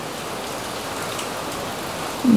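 Egg pantua pitha, a Noakhali-style sweet, frying in hot oil: a steady, even crackle and sizzle runs close and continuous throughout, with a brief louder spatter at the very end.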